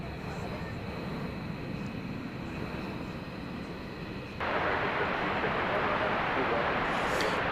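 Envoy flight 3705, an airliner at DFW Airport at night, gives off a steady broadband jet roar that rises abruptly in loudness about halfway through and holds there.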